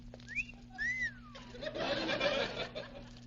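A man gives a wolf whistle at a woman in a 1946 radio comedy: two quick swooping whistles, rising then falling, followed by a burst of chuckling laughter.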